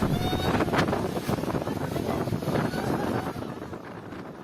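Strong storm wind with rain in a Philippine park, a steady low roar and buffeting gusts heard fairly faintly throughout.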